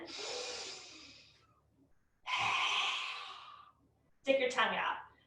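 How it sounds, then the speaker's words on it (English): Deep breaths drawn in during a yoga session, three close, breathy inhalations with short pauses between them, the last ending in a sharper snort-like intake. "Deep breath in."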